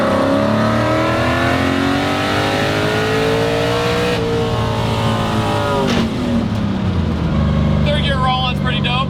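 A Fox Body Mustang accelerates hard in a third gear roll-on, its engine note climbing loudly and steadily, dipping briefly as it eases off before pulling again, with some talk and tire noise mixed in.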